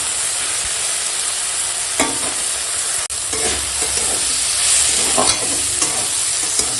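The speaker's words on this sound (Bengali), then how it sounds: "আর দেখো কত সুন্দর করে বেগুনের সঙ্গে এখন রান্না করে নিচ্ছি" Fenugreek greens cook with eggplant in a wok, a strong, steady sizzle broken by a few sharp scrapes and clanks of a stirring utensil against the metal, close up and with no talk.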